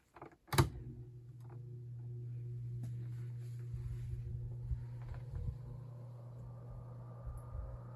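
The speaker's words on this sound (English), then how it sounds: "Here's the low speed." A vintage Galaxy 16-inch table fan runs on low speed, giving a steady low motor hum with a mild whine and airy rush that holds evenly for several seconds after a brief click at the start.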